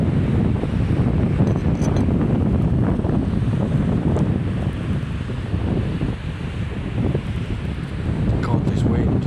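Strong gusty wind batters the microphone while someone fishes in roughly 35 mph conditions, a loud low rumbling buffet that runs continuously with slight surges and dips.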